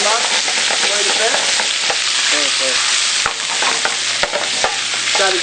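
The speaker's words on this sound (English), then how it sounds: "Next we'll be tossing in fresh escarole. Put that in our saute pan. Let it simmer up, pretty much, quite a bit." Fresh escarole sautéing in a saute pan, a steady loud sizzle and frying hiss with repeated stirring scrapes and clicks of a utensil against the pan throughout.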